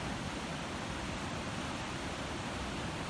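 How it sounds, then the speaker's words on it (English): Simulated waterfall ambience from X-Plane 11 flight simulator scenery: a continuous, even rushing roar with no breaks. "So you can hear the waterfall,"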